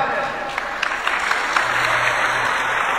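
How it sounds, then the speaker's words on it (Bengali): Audience at an evening arati and harinam sankirtan at the temple in Sri Dham Mayapur claps steadily, a dense, close wash of many hands with no let-up. "অনেকে হাততালি দিচ্ছেন"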